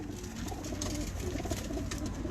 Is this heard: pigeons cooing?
yes